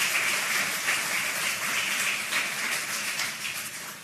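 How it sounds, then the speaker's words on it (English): Audience at a journalism panel talk applauds the moderator and speakers, a sustained wash of many hands clapping at steady volume that tapers slightly at the end. "So please join me in a round of applause for our moderator and all of our speakers."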